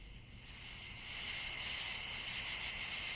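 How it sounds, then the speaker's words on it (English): Crickets chirp outdoors at 2 a.m., a dense, steady high-pitched trill picked up by a camera microphone, holding constant and slightly swelling in loudness throughout with no voices. "What you hear is the crickets outside coming through the camera microphone."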